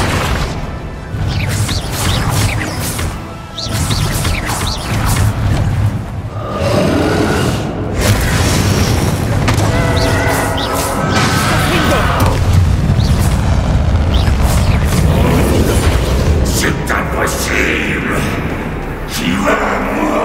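In the Hogwarts Legacy video game, a Confringo explosion spell sets off loud, booming blasts with crashing impacts that continue without a break, set against game music, while voices shout over the battle.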